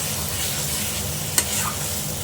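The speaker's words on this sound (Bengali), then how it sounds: "এবার ভালো করে নাড়াতে হবে" A chicken mixture being stirred as it fries in a pan, a continuous close sizzle with the soft scrape of a spoon and one sharp clink.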